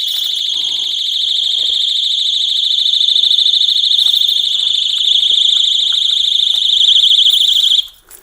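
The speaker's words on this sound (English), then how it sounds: "and then the main alarm goes off" A bike lock's shrill, piercing electronic alarm sounds continuously at high pitch for several seconds, loud and close, then cuts off abruptly.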